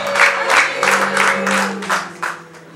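A church congregation ululates in celebration of a wedding gown, high warbling trills rising in several overlapping bursts from many voices, mixed with scattered clapping and cheering.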